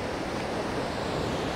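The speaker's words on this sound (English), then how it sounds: "I'm just loving the fact that I'm next to the ocean again." Ocean waves wash onto a beach in a steady, broad roar of surf with some wind noise, continuous and fairly loud with no voices.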